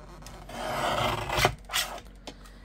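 Scissors snip and rasp through a scrap of vanilla cardstock, a paper crafting cut, with a few close, dry cutting strokes building and then tapering off, no talking.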